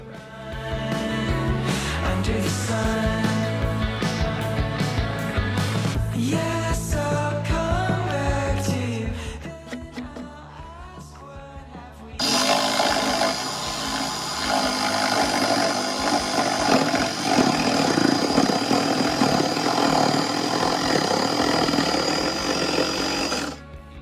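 A jigsaw cutting through a wooden surfboard, a loud, close, buzzing saw that runs for several seconds, stops briefly, then starts again and keeps cutting steadily.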